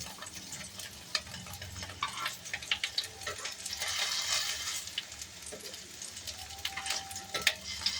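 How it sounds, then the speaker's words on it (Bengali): Chhana (paneer) pieces frying in a pan as they are uncovered and flipped, with a soft sizzle, scraping turns and a few clinks, moderately close and fairly quiet. "ছানার ঝাল করতে ছানাগুলো খুব কড়া করে না ভাজলেও হবে। ঢাকাটা খুললাম। এবার এগুলো একটু উল্টিয়ে দিতে হবে।"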